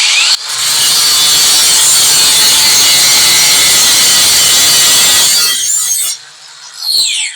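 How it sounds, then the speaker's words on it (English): A loud, steady abrasive grinding of a grinding wheel on a Mellif 20V brushless grinder against metal, harsh and bright, running continuously for several seconds before cutting off, then a brief final burst. "Now this is the grinding wheel, so it's not really made to cut like this"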